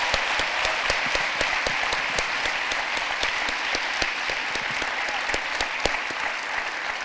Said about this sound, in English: let's give a round of applause to the students who asked questions